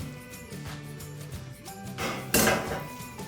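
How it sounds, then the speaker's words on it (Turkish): A spoon scraped clean against a bowl during pasta salad preparation, a few close clinks and scrapes, with a louder rasping scrape near the end and no talking. "Kaşığı temizleyeyim"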